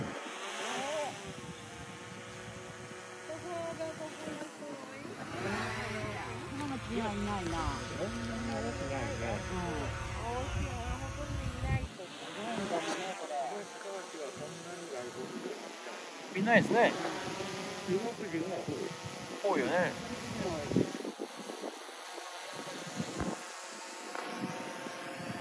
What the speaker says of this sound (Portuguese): Drone voltou.